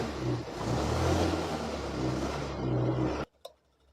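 A vehicle engine starts and runs after its wiring is reconnected and the check engine light comes on. It holds a loud, steady, close-up running note for about three seconds, then cuts off abruptly, followed by a faint knock.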